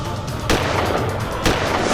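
Two sharp, loud gunshots, about a second apart, cut through a dense, noisy action-scene background in a courtroom crime drama.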